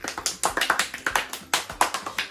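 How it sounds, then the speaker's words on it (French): Small group applauding at a close range, with quick, uneven hand claps in a sharp, steady patter, no voices over it. "Pouvez-vous applaudir?"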